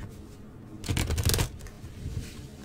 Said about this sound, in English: let's cut the cards